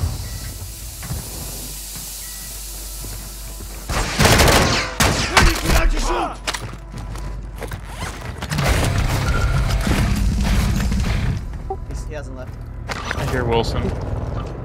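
Gunfire crackles in the shooter video game Building 21: a sudden burst of rapid shots breaks in partway through, then fades into lower rumbling mechanical noise, while a player's voice talks over the action.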